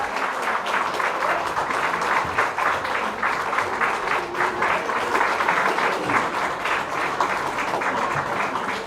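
Steady, dense applause from a crowd at an album launch event in Nepal welcomes a guest, holding at an even level throughout with no pauses.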